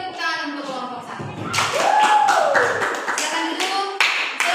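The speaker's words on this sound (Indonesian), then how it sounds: "Silakan dulu kalau begitu beri tepuk tangan untuk kelompok 1." A classroom group claps for Group 1 during a teaching session, a close burst of uneven hand claps and taps while voices talk and call out over them.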